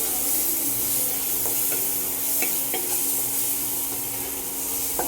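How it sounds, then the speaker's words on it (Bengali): Ground spices with coriander, turmeric and salt fry in a pan while being stirred, a constant sizzle under scattered scraping and light clinks of the spoon against the pan, close and steady without speech. "এবার একটু নাড়াচাড়া করব।"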